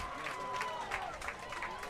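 Home crowd at a 14U boys' water polo gold medal game cheering and clapping in a continuous noisy wash, under a commentator's voice.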